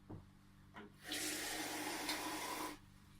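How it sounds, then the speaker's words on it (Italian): Water poured from a tap into rice flour batter for frying salt cod, a loud steady rushing stream lasting about a second and a half after a couple of faint knocks, no voices. "Aggiungiamo ancora l'acqua."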